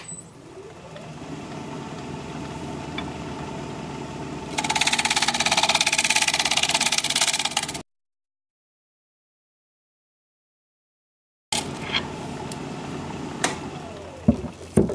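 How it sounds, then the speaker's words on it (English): A wood lathe spins a junk-wood bowl blank under a steady motor drone, and a gouge making a pull cut adds a louder, rough scraping hiss for a few seconds. The sound then cuts out completely and resumes faintly after a gap. "I'm debating whether I want to do a pull cut with my gouge or use my round nose scraper."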